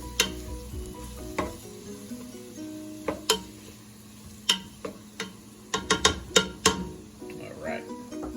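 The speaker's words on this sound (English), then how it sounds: "Give this a quick little stir before we start doing our carrots." Celery for chicken noodle soup sizzling in a pot while a spoon stirs it, with a steady quiet fry under a series of sharp utensil clinks and taps against the pot, several clustered near the end.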